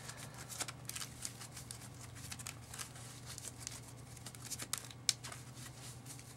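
A deck of Yu-Gi-Oh trading cards being shuffled by hand, a quiet rapid patter of riffles and soft card slaps with a few sharper clicks, close and alone without talk.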